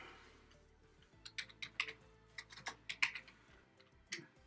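Keys on a computer keyboard are tapped at a job center workstation in an irregular burst of about a dozen crisp clicks, close and fairly quiet, with no talking.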